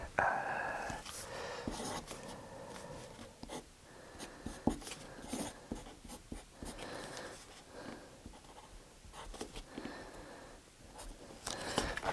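A pen sketches on paper in a quiet room, making soft scratchy strokes in uneven bursts. Faint breathy sounds drift in the background.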